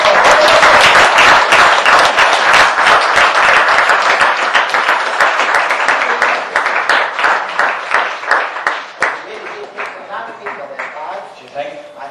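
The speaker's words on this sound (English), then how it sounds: "Give them a big round of applause." Enthusiastic audience applause at a live stage show, loud and dense at first, then thinning into scattered individual claps as it fades over about twelve seconds.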